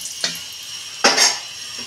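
Whole cardamom, cinnamon and dry red chili hit hot oil in a pan where potatoes were just fried, with two sharp sizzling bursts, the second louder and longer, then a fading crackle.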